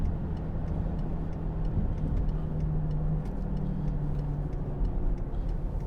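A 2009 BMW X6 30d xDrive diesel cruising in manual sixth gear at about 2,000 rpm, a steady low engine drone with road and wind noise heard from inside the cabin, with no talk.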